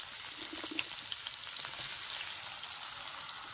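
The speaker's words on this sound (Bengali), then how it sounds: "তেলের মধ্যে পেঁয়াজ কুচি দিয়ে দেবো।" Chopped onion frying in hot oil in a kadai, a dense, even crackling sizzle held close and steady throughout, with no voices.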